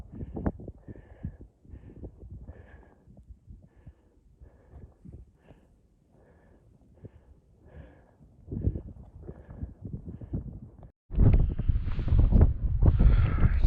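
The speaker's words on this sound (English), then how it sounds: "It's getting super windy, super windy at the moment" Strong wind on a snowy mountain hike in blizzard conditions buffets the microphone in irregular rumbling gusts, lighter at first and then a sudden loud, sustained roar near the end, with no talk.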